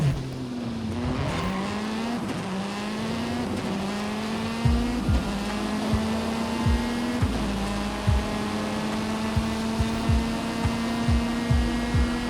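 Engine notes from a car racing video game played on an ROG Ally handheld, with Ferraris among the cars: a continuous high revving whine with repeated gear-shift drops and tire squeals, loud and alone.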